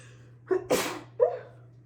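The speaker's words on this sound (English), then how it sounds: "Hold on, I'm gonna sneeze." A single close sneeze with a quick intake of breath before it and a soft exhale after, over a faint steady hum.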